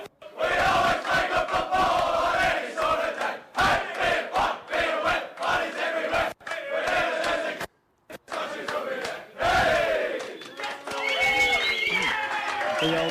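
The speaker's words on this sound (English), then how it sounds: "The Old Scotch song." At an amateur Australian football match between Old Haileybury and Old Scotch, a crowd chants and sings the Old Scotch school song in loud rhythmic bursts, with shouting and clapping mixed in.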